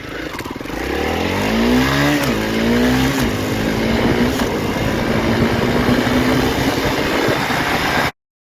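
A 2023 Honda CRF300L motorcycle pulls hard along an interstate, its engine note climbing through the gears with clear shift dips before settling into a steady loud drone, heavy wind rush throughout.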